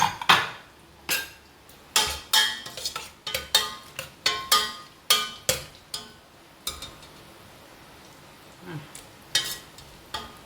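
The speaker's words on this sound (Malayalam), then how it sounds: "നമുക്ക് കുക്കർ തുറന്ന് നോക്കാം." Metal pots, lids and utensils clatter in sharp, repeated clanks and taps in a home kitchen as a pressure cooker is opened while cooking clam meat thoran, with a quieter stretch before a few final knocks.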